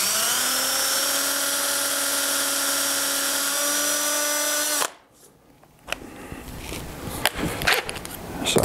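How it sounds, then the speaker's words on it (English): A power drill runs at a steady high whine for about five seconds while boring holes in an art clock, then cuts off, followed by scattered clicks and handling noises. "And I'm going to drill one opposite corner over here."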